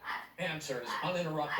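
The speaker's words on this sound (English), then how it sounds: "that's my dog acting crazy if you hear" A dog barks and yips excitedly in the background, indoors at home, partly masked by someone talking continuously over it.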